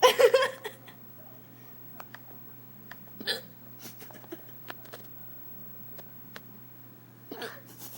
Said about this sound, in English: You're gonna make me have the hiccup.